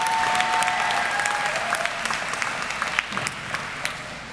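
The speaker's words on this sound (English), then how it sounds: "Give yourselves a round of applause." Audience applause at an adult high school commencement ceremony, a sustained, dense clapping from a large indoor crowd, loud and even, with a few faint voices and whoops mixed in.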